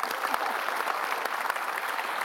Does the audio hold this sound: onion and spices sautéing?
no